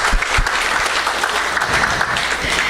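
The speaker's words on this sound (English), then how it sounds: "Let's give them a round of applause" A round of applause from the audience at The Villages Tea Party meeting, a steady wash of clapping lasting a few seconds at moderate distance, with some low thumps underneath.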